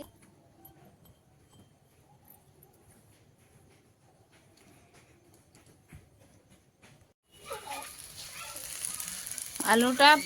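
Potatoes sautéing in a pan give only a faint, quiet crackle at first. A much louder broadband sizzle suddenly swells in near the end, with a voice briefly speaking over it.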